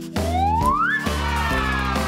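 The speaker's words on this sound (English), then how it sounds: "That's a monkey!" A monkey call in a children's animal sound game, a single rising whooping hoot that climbs in pitch then falls away, loud and close.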